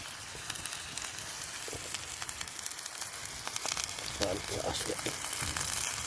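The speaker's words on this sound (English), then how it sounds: "So let that beef cook down first, then we'll chuck the rice in" Beef sizzles and crackles in a pan over an open campfire during a woodland camp, a steady frying hiss with scattered pops and a few louder bursts, close and continuous without talk.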